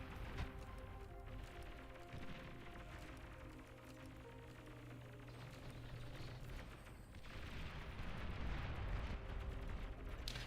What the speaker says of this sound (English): That's a nice bombing run.